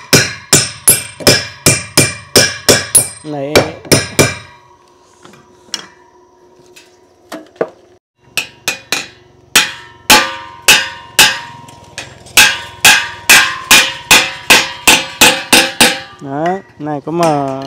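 Hammer blows ring out while a house roof is built, in fast rhythmic bursts of sharp strikes, a quieter pause in the middle, then more rapid pounding and a ratcheting whir near the end.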